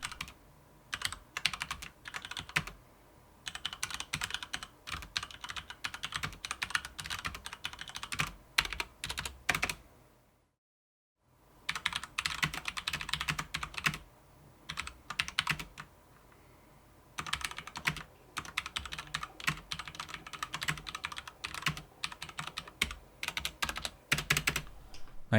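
Rapid clacky typing on an MSI Vigor GK80 mechanical keyboard, close up, in dense bursts with brief pauses and one short silent gap midway.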